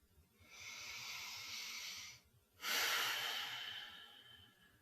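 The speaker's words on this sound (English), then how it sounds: "Start with some nice deep breathing." Slow deep breathing during an EFT tapping session: one long, steady inhale, a short pause, then a louder, breathy exhale that fades away. The breath is close and quiet, with no talking.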